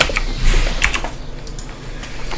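Keys on a computer keyboard are tapped in a short, irregular burst of close clicks, with no voices.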